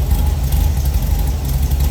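A VW Beetle engine fitted with dual Solex 34 carburetors warms up from cold, a steady, loud low rumble with an even, slightly uneven idle pulse throughout.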